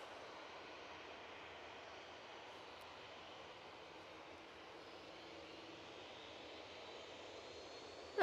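A Ryanair airliner departing Manchester Airport, bound for Alicante, gives a steady broadband jet roar at a moderate distance that holds evenly throughout with no voices.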